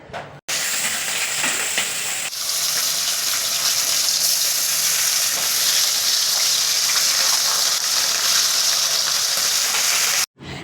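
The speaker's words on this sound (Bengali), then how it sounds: "কড়াইতে তেল দিয়ে তেল ভালো করে গরম হলে দিয়ে দিচ্ছি মাছগুলো" Marinated khoira fish, rubbed with salt and turmeric, sizzles loudly in hot oil in a kadai, a steady dense crackle that begins abruptly and runs without pause before cutting off at the end.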